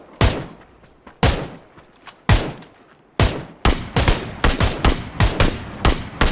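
Gunfire in the battle-royale video game PUBG: Battlegrounds, loud close shots fired singly at first, then in a quicker volley of rapid bursts, with no talking.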